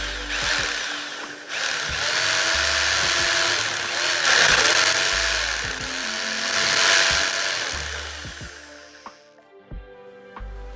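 Power mixer stirring Sika MonoTop concrete repair mortar in a bucket, a loud continuous motor whine that swells and dips as the paddle churns the mix, with talk over it.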